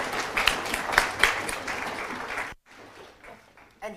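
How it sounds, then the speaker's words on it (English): Audience applause at a tech conference talk, dense clapping for about two and a half seconds that cuts off abruptly, leaving quieter room noise and a few scattered claps. "let's give another round of applause to Lukas"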